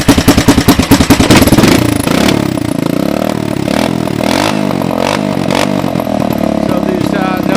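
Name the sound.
1984 Honda 200ES motorcycle engine running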